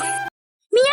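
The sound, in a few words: person imitating a cat meowing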